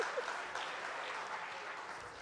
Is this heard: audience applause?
yes